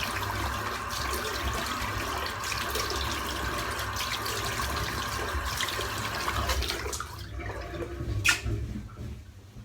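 Tap water runs steadily for about seven seconds while styptic is rinsed off a freshly shaved head, a continuous close splashing hiss that cuts off, leaving a brief clatter and quiet.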